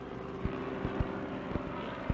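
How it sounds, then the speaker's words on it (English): Jet aircraft engines at an airport drone on as a steady low roar with a periodic beating pulse, moderately loud and fairly close, with no voices. "Experienced mechanics carefully check the powerful jet engines."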